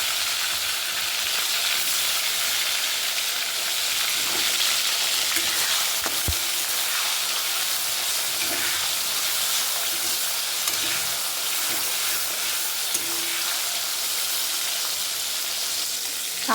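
Tomatoes fry in a pan with a bright, steady hiss and crackle, occasional faint clinks and stirring scrapes underneath, close and continuous with no one talking.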